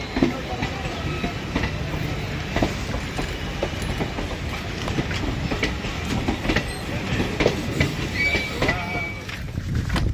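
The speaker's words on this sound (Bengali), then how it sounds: "আমাদের এখানেই ছাড়ছে ট্রেনটা" A local train departs the station at Krishnanagar, rumbling and clattering steadily along the rails, with rhythmic clicks of wheels and occasional squeals, loud and close throughout.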